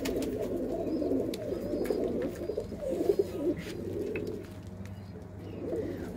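Pigeons coo softly in a loft, their low, repeated rolling calls overlapping continuously at a moderate distance. A faint bird chirp and a few light knocks come through in the background, and no one speaks.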